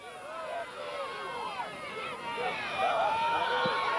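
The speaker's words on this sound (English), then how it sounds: "there's a lot of yelling going on out in that field now" Players and spectators yell and shout across a field during a high school boys' CIF soccer match between San Pasqual and Valhalla, a steady hubbub of overlapping calls that swells slightly toward the end.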